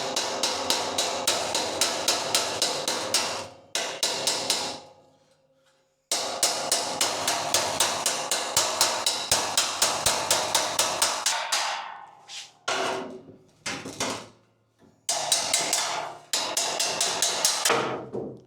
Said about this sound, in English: I'm just going to hammer it down.